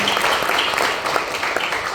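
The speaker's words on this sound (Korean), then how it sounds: "우리 박수로 환영하고 축복하겠습니다." Church congregation applauding to welcome newcomers during a Sunday service, a steady wash of many hands clapping at once, dense and continuous for the whole stretch with no voices standing out.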